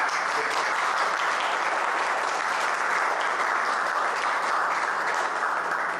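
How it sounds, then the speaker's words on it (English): Even, sustained applause from a lecture audience at a talk on an ark boat, a dense wash of many hands clapping at moderate loudness with no one speaking. "So I'd just like to give a round of applause to Jerry."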